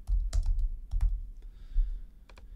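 Someone types on a computer keyboard while entering details into a website contact form, producing irregular clusters of close, crisp key clicks throughout.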